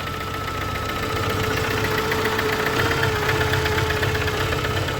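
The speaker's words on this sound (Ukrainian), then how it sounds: "Мотор запустився." A ZAZ Tavria car engine runs steadily at idle after a long period unused, a loud continuous rumble with a slightly uneven, knocking throb, as if not all spark plugs are firing, no voices.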